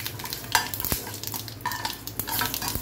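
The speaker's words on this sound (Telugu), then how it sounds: "పోపులో ఒక ఎండుమిర్చి వేసాను." Hot oil sizzles as a South Indian tempering of dried red chili, urad dal, curry leaves and a pinch of asafoetida fries, with close stirring scrapes and clinks against the pan throughout.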